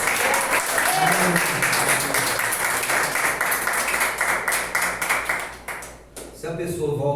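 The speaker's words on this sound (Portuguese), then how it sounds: "Vamos receber Maria do Carmo com uma salva de palmas ao Senhor Jesus" Church congregation breaking into sustained applause during a worship service, dense steady clapping that thins and fades near the end before voices resume.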